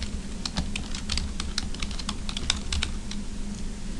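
Rapid clicking keystrokes on a computer keyboard as an identifier is typed, an uneven patter of close, crisp taps over a faint background hum.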